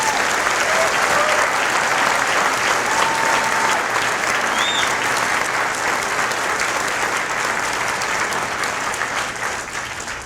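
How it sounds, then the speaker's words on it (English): A commencement audience at a dental school ceremony applauds continuously for the graduating class, a dense, loud wash of clapping that holds steady and begins to fade at the end. "I ask that you join me in applause to acknowledge their hard work and their many accomplishments."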